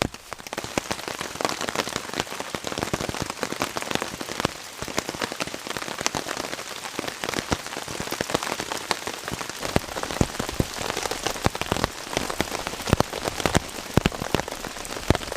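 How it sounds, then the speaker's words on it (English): Steady rain patters and taps densely on a tarp overhead at a bush camp, a continuous crackling hiss with occasional louder drops throughout. "Well, it's raining, guys."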